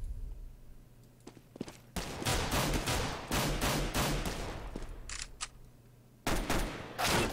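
Rapid bursts of rifle fire ring out in several loud volleys with short pauses, alongside faint footsteps, during a competitive Counter-Strike match on de_inferno.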